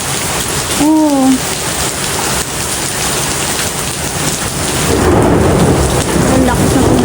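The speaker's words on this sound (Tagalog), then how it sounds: "Ang lakas ng ulan." Heavy rain with thunder pours down loudly and steadily throughout, with hail mixed in, and a brief voice speaks over the downpour near the start.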